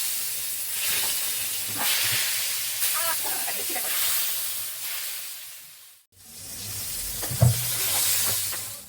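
Rui fish, potatoes and pointed gourd fry in hot oil, making a loud, steady sizzling hiss with a brief drop near the end before it picks up again.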